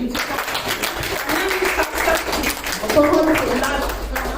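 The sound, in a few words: audience applause at an open mic poetry event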